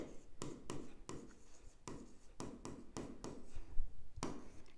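Writing a bank reconciliation entry by hand on paper, a close series of scratchy pen strokes in quick irregular bursts with short pauses, alone without talking.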